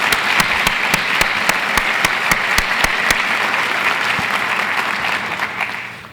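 Sustained audience applause at a university State of the University address, loud and steady with sharp individual claps standing out, fading slightly toward the end.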